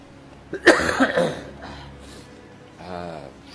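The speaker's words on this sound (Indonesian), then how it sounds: "masih batuk-batuk aja" A person coughs a few times in a quick burst, close and fairly loud, followed by a softer voiced sound.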